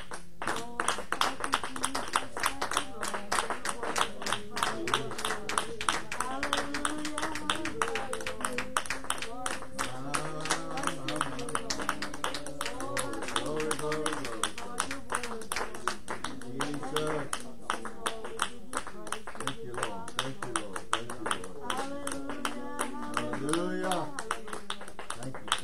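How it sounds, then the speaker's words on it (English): Church congregation clapping hands in praise during a service, a dense, rhythmic clapping that runs steadily over singing voices and music, lively and sustained for the whole stretch. "Would you clap your hands unto the Lord?"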